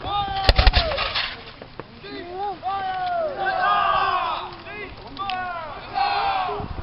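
Musket volleys crack out at a historical military reenactment, two sharp close shots followed by distant rolling fire as platoons of a regiment shoot in sequence, with crowd noise and shouted voices throughout.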